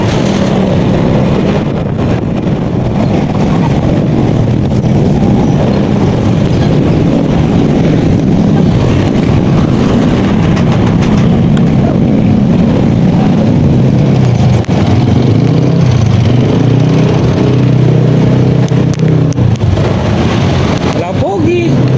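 Motorcycle riding along a road toward a market: a continuous engine drone mixed with heavy wind rush buffeting the microphone, with a voice speaking intermittently over the ride.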